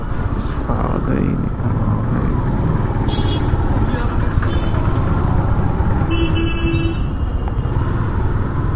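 A 2014 Yamaha R15 v2 motorcycle engine hums steadily in heavy, jammed Indian city traffic, with a brief car horn toot partway through and loud constant road noise throughout.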